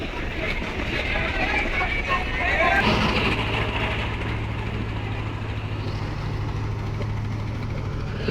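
A trawler boat engine drones at a river launch ghat, a low steady hum settling in after a few seconds beneath broadband waterside and crowd noise.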